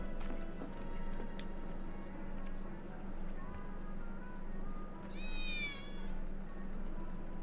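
A cat in Final Fantasy VII Remake gives a single short meow against steady game background ambience with faint clip-clop and ticking sounds.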